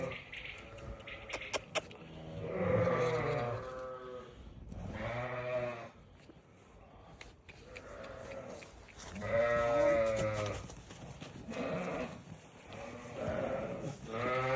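Several sheep bleat repeatedly, close by, with overlapping calls and short pauses between them, plus brief metallic jangling at the start.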